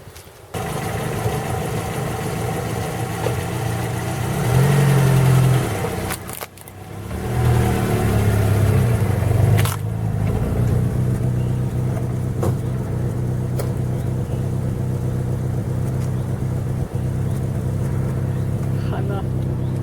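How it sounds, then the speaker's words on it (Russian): A passenger car weighing over a tonne idles and rolls slowly over a Nokia 1101 phone, a steady engine drone with a brief rise in revving and a short drop, while people talk nearby. "Сейчас будем проверять, выдержит ли она легковой автомобиль, который весит больше тонны, или нет"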